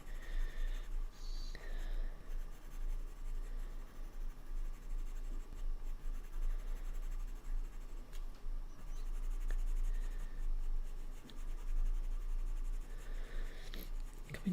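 Coloured pencil burnishing and softening a drawing of a hare on drafting film: a steady, close, soft scratchy rubbing that runs continuously with small variations in stroke, and no talk.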